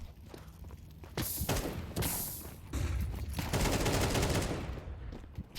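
Rapid gunfire bursts crack out in a Counter-Strike 2 match at the RES CS2 Regional Series Europe, with rifle volleys and footsteps building from sparse shots into dense continuous fire.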